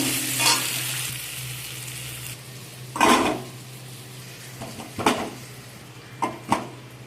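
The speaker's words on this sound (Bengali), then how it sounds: "নুন আর হলুদ দিয়ে আলুটাকে ভালো করে আলুগুলোকে ভেজে নেব" Potatoes frying with salt and turmeric in a pan, a low continuous sizzle broken by several sharp metal-spoon scrapes and clinks against the pan, close and fairly loud.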